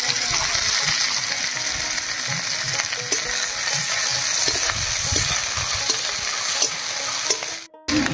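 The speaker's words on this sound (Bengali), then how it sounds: "পেঁয়াজ লঙ্কা ভাজা হয়ে গেছে" Chopped onion, green chili and dried red chili with five-spice seeds sizzling in mustard oil, a continuous crackling fry with repeated scraping stirs from a spatula and a brief pause near the end.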